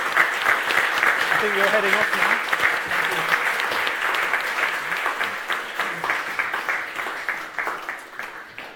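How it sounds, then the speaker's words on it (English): Applause from a live audience for the cast of the TV series Snatch at a Q&A event, dense clapping that holds steady then thins into scattered claps near the end, with a voice speaking over it. "let's have a round of applause for the cast of Snatch"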